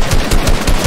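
Close, loud automatic gunfire in a shooter video game, a quick burst of about four evenly spaced shots with nobody talking.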